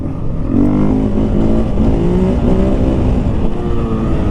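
2023 KTM 500 EXC-F enduro motorcycle engine while riding, loud and close, its throaty drone rising and falling in pitch with the throttle throughout, with wind rush beneath.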